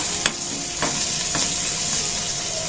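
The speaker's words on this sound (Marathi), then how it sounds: "त्यावरती हिंग काढून घेते हे बघा मिनिटभर परतून घेऊया" Asafoetida sautéing in hot oil for a Rajasthani kadhi pakoda, a steady close sizzle with a few light scraping stirs of a spoon against the pan, no voices.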